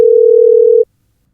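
A loud, steady telephone dial tone as a phone call is connected, holding for under a second and then cutting off sharply into silence.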